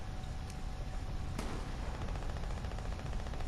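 Video game gunfire, a dense continuous rattle of rapid shots at a steady loud level with a couple of sharper cracks early on, and no talk.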